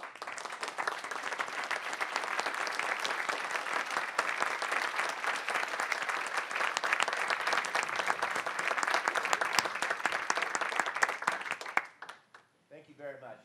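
Standing applause from a university faculty council meeting, a long, loud, sustained ovation of many hands that stops abruptly near the end, followed by a brief voice.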